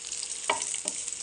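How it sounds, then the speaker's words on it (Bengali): A medium-sized onion lightly frying in two tablespoons of oil over a medium gas flame gives a steady close hiss, with two brief louder sizzling bursts as it is stirred. "হালকা ভেজে নেব।"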